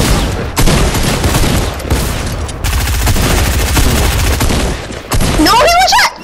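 Dense bursts of rapid gunfire in the video game Fortnite, loud and close, with overlapping volleys and booms running almost continuously, briefly broken by short gaps.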